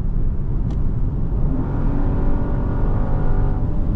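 A 2025 Genesis GV70 3.5-liter twin-turbo V6 accelerates with a steady, loud engine drone and road rumble heard from inside the cabin, rising slightly in pitch over four seconds with no talking.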